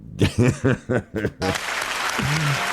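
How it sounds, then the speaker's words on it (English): A few short voiced bursts, like laughter or chuckles, give way to a steady wash of studio audience applause on a Wheel of Fortune game show, with a brief voice sounding over the clapping. "we got a clap"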